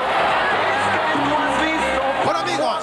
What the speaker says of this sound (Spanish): el público aplaude delirantemente